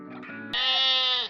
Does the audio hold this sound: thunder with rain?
no